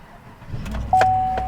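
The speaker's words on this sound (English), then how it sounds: "Our newly programmed key should start the engine." A 2014-2018 Chevy Silverado engine cranks and catches with a newly programmed spare key: a low rumble builds, then a steady electronic tone from the cab sounds over the idling engine. Close and fairly loud, with no talk.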